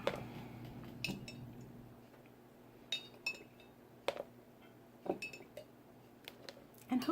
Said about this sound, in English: let's just take this half teaspoon and just start dumping some of it on wherever I feel like